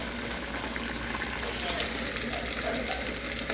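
Sliced onion and green chili frying in oil in a pan, a steady dense sizzle running evenly throughout with no pauses.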